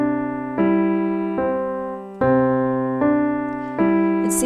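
A piano plays a song whose left hand rocks back and forth between pinky and thumb, producing a steady pulse of sustained chords struck about every three-quarters of a second, close and clear with no talking.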